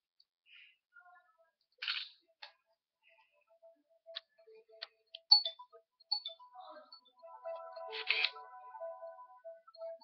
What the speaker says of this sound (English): if you press L or S, wait, no, L or R, you could take a picture